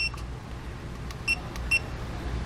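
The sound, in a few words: TPMS monitor beep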